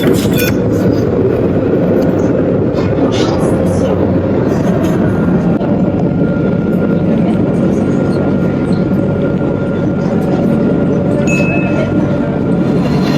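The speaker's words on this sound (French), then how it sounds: "Donc ça y est, le tram arrive, d'accord?" A tram pulls in at a stop in Orléans, France, with a steady, loud rolling rail rumble and faint squeals throughout, while people talk over it.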